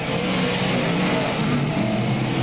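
Race cars roar around the Albany-Saratoga dirt track oval, a loud, steady engine drone with revving that swells slightly as the pack runs through the turns.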